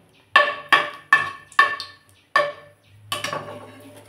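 Dried red chili dropped into hot mustard oil in a wok, five sharp crackling bursts spaced about half a second apart, then a longer sputtering sizzle with a low hum underneath, close and fairly loud, no talking.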